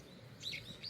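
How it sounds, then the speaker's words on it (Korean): Birds chirp faintly outside an open window during morning airing on Jeju, giving a few high, brief tweets over a quiet background. "아침 환기하며 새소리 듣기가 취미가 되었습니다."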